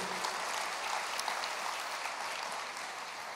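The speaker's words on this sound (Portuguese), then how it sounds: "aplauda ao Senhor" A church congregation applauding during a sermon, a soft, steady wash of many clapping hands heard from a distance, fairly faint and continuous without voices.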